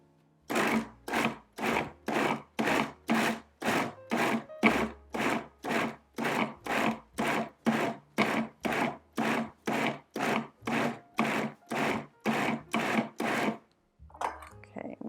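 A food processor pulses a chunky vegan meatball mixture in about two dozen short, even bursts with brief gaps between them, then falls quiet near the end.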